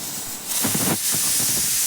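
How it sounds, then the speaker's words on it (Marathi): A pressure cooker making spiced masala rice vents steam, a loud close hiss that surges after a short lead-in and then holds steady with a pulsing rush. "चौथ्या शिट्टीला मी गॅस बंद केलेला आहे."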